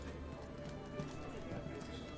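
Horse hooves clip-clop steadily in The Witcher 3, a rhythmic mid-distance trot under background game ambience with voices talking over it.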